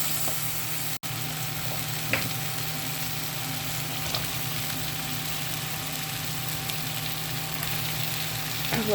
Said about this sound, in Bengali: আগে চিংড়ি মাছটা একটু কষিয়ে নিলাম, এখন আমি আস্তে আস্তে লাউগুলো দিয়ে দিব।